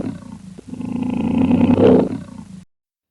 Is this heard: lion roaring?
yes